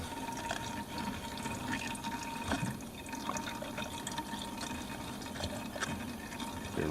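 Engine oil draining from a 2017/2018 Honda Rancher 420 ATV into a catch container during an oil and filter change. A soft, steady pouring trickle with faint drips runs continuously at low volume, close by.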